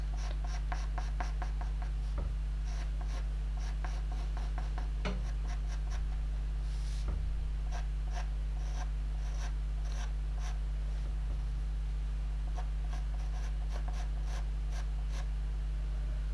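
A soft pastel pencil makes a steady run of light scratchy strokes across paper, close up and alone, detailing an autumn stag in a soft pastel painting.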